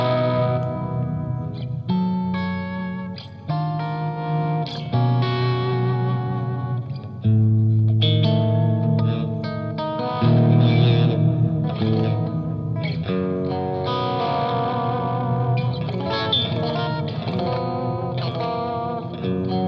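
Electric guitar through an EarthQuaker Devices Palisades overdrive pedal with added ambient effects, playing loud, gritty chords and phrases that smear into chorus-like shimmer and echo, continuous for about twenty seconds with no talking.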